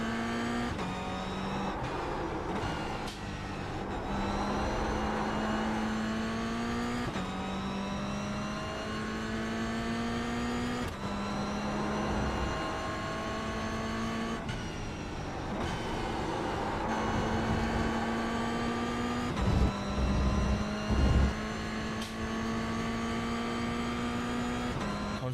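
Toyota GR86 engine in a racing video game, revving up and down through repeated gear shifts with a steady drone between, loud and continuous, with a few brief thumps and no speech.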